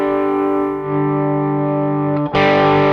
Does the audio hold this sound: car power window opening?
no